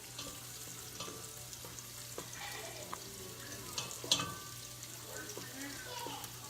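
Garlic frying in olive oil in a pan over medium heat gives a soft, steady sizzle with occasional light clinks and stirring, heard close but faint.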